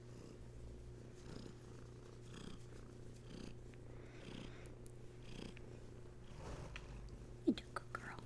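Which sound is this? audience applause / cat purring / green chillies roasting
cat purring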